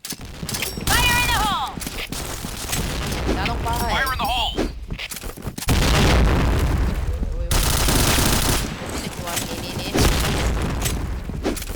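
Rapid bursts of gunfire and booming shots in the video game Point Blank, layered with game effects and a speaking voice over dense, loud action.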